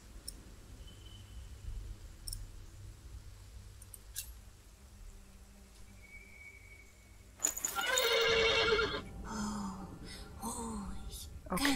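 A sudden, loud horse whinny bursts out after a quiet stretch of small clicks, followed by snorting and breathy sounds, in the video game The Pillars of the Earth.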